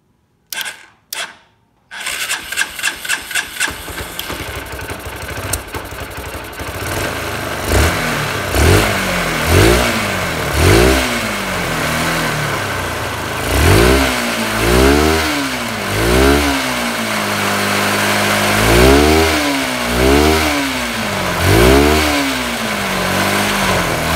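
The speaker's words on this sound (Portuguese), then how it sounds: "Então aqui vamos ligar a moto e vamos ver como tá aí." A Honda Bros 150 motorcycle, checked for a charging fault, starts after a few brief cranks, then idles and revs repeatedly in rising-and-falling bursts, close and loud with no speech.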